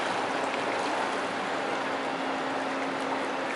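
Floodwater from a swollen river rushes into flooded houses, a dense, continuous roar of moving water close by with no talking.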